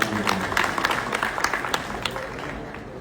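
Audience clapping at a Bhojpuri stage event, a dense, continuous patter of many hands with sharper bursts, steady and fairly loud for the whole stretch, with no talk over it.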